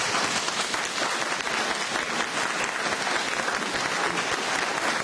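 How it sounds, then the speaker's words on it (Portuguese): Audience applause at a talk on thought and its transforming power, a steady, dense wash of many hands clapping throughout, loud and sustained with no break. "Uma salva de palmas."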